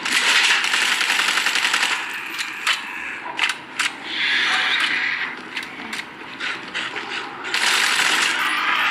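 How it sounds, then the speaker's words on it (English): Rapid gunfire from a bus in a video game, with bursts of sharp metallic shots and mechanical clatter, some loud and some trailing off, under brief in-game voices. "That's gunfire! From the bus!"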